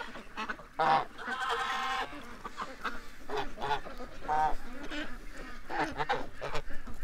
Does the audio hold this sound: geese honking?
yes